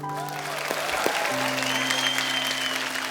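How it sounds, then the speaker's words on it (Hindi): Studio audience applause on a Hindi television comedy show, a steady wash of clapping sustained for the whole stretch, with musical tones from the show's band running underneath. "जोरदार तालियां हो जाए Thank इन फनकारों के लिए"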